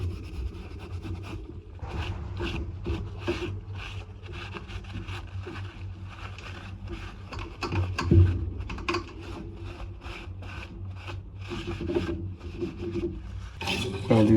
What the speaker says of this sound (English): Final wipe down with a Scotch-Brite pad.